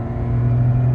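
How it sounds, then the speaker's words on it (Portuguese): A Volkswagen Up TSI with a Stage 3 tune accelerating, its engine giving a steady, loud, close low rumble for a single continuous second. "então você vai acelerar o carrinho vai responder forte pra caramba"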